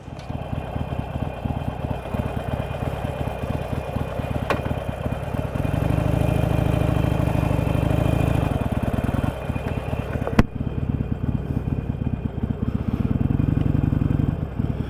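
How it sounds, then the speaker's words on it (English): A Harley-Davidson Sportster engine runs close by with a loud, steady, lumpy V-twin pulse, rising briefly in the middle and then settling back to the same rumbling beat. "let's get back on this bike and ride"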